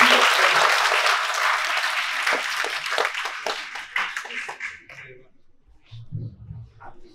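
Audience applause at a school prize distribution rings out for a poster prize winner, a dense steady clapping that thins out and stops after about five seconds, followed by a few quiet voices.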